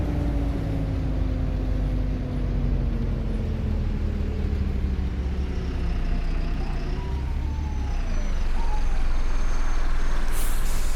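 An Optare Solo bus in OMSI 2 slowing to a stop, with a loud engine drone and descending whine that fade as it brakes, then a sharp hiss of air brakes near the end.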